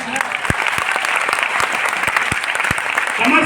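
Dense audience clapping from a seated crowd at a talk, a steady loud wash of many hands with a few sharper close claps standing out, continuous throughout.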